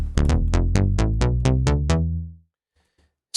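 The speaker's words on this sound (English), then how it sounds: "Next up on the list is snappy bass, which sounds like this." A snappy bass patch built on a Thor synth in Propellerhead Reason, EQ'd for crisp highs, plays a run of about nine punchy, evenly spaced plucked notes that fade out, followed by near silence.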